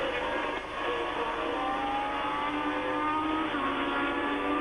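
A Ferrari Formula 1 race car at the 1979 French Grand Prix at Dijon holds a steady, loud, sustained engine note with a continuous high whine under full throttle, with no talk.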